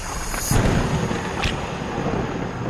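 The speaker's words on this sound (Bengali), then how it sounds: "দূরে কোথাও জোরে বাজ পড়ল" A deep rumble of thunder rolls through, with a sharper crack partway, over a constant hiss like rain.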